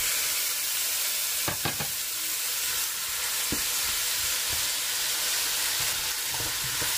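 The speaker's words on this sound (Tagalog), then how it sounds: "stir or mix it hanggang sa maluto yung kamatis." Tomatoes sautéing in a pan with garlic, onion and boneless pork butt, a loud continuous sizzle and frying hiss heard up close, with a few scraping stirs of the utensil against the pan and no talking.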